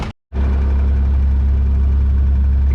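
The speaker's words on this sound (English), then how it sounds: "It's idling properly at about 14:1 air-fuel ratio" Car engine idling on a Speeduino DIY ECU at about 14:1 air-fuel ratio, a steady close low hum and rumble that begins after a brief moment of silence.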